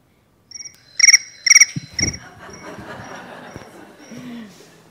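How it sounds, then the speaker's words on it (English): Cricket chirping in repeated high, pulsed bursts, loud at first and then continuing more faintly, with some low rustling in the background. "I hear a cricket."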